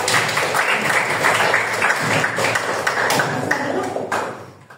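A class group applauds group 1 in a classroom session, a steady, fairly loud wash of clapping lasting several seconds before fading out at the end.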